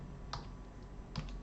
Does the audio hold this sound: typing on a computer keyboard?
yes